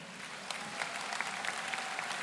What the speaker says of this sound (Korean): 큰 박수로 여러분 맞이해 주세요